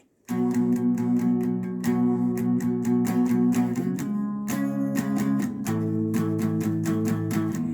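Distorted electric guitar power chords chug in a steady, driving rhythm for a song, loud and close, with a few chord changes along the way.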